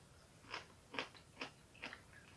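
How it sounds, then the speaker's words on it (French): Crisp bites into pickled sweet-and-sour courgettes, four distinct crunches spaced about half a second apart, close and clear against a quiet room with no talking. "Vous entendez, les courgettes sont craquantes, croquantes, comme vous voulez."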